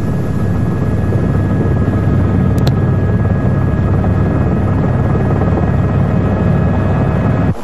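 A helicopter flies overhead during a mountain rescue, giving a loud, continuous rotor drone with a steady thumping texture from start to end.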